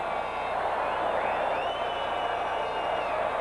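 A sellout stadium crowd at the 1980 Oakland Raiders vs. Houston Oilers AFC Wildcard playoff game keeps up a steady, distant roar with faint whistles and cheers, unbroken throughout.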